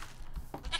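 Short nasal bleats of a goat in the Minecraft video game, two or three quick cries in under a second, fairly quiet in the game audio.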